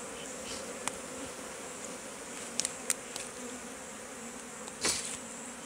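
Wild bees taken from fallen logs buzz softly and steadily, a faint continuous hum with a few brief louder passes as single insects fly close, no voices present.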